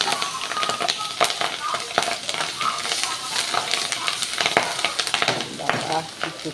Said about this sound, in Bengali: কি ফুটছে লঙ্কা!